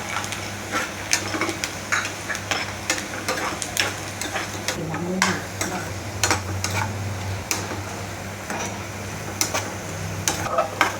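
Cashews and raisins fry in a pan for a pumpkin payasam, a steady sizzle broken by frequent sharp clicks and scrapes of stirring, close and fairly loud, with no talk.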